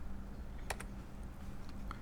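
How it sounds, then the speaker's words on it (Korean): A few soft, isolated presses on a computer keyboard's arrow keys, faint and spaced apart in a quiet room. "키보드에 화살표 누르면 방향 바뀌는 거 보이시나요?"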